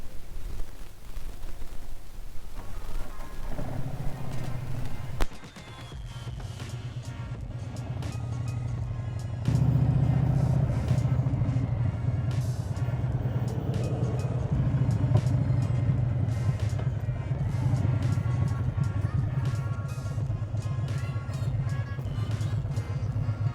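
A Harley-Davidson motorcycle riding out for fuel: a low engine rumble and wind noise, quieter at first, then a loud steady drone with a heavier surge partway through, no voices.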